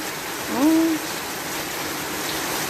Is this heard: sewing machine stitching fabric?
no